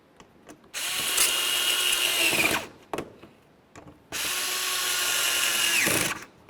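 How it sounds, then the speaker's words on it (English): Two long bursts of a power drill or driver running in a car's wheel well, each about two seconds, driving the front bumper cover mounting screws into the fender of a 2005-2010 Chevrolet Cobalt, close and loud, with short clicks and pauses between. "Now we can put in the rest of our mounting screws inside each fender."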